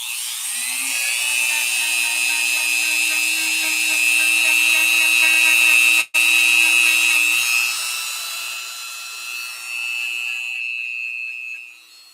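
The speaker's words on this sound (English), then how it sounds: "I'll just go ahead and real quick hit it with the Dremel." A Dremel wire brush whines steadily against a Singer 15-91 sewing machine part, loud and high-pitched, with a brief cutout midway before continuing, then easing off near the end.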